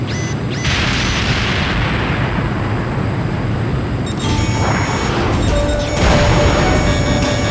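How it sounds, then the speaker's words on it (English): A loud, sustained explosion roar as a power station is destroyed in the video game Ace Combat Joint Assault, a dense rumbling blast with crackling debris and faint electronic tones, continuous throughout. "Impact!"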